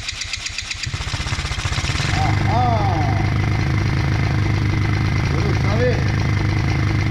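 A buggy's engine, left outside in the rain, cranks in a fast rhythmic chug, then catches and settles into a loud, steady idle. Someone speaks briefly over the running engine.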